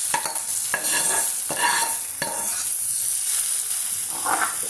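Tempering spices (talimpu) sizzle steadily in hot oil for a yogurt raw-banana chutney, with several sharp clicks of a spoon stirring the pan, close and alone without talk.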